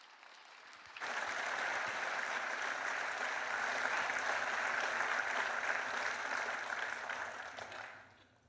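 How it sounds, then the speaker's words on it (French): Sustained audience applause fills a conference hall as the association's president is welcomed at the opening of the AMRAE 2018 risk-management meetings, starting abruptly, holding steady for about seven seconds, then fading out. "je vous demande d'applaudir et d'accueillir chaleureusement votre présidente, Brigitte Boucaud."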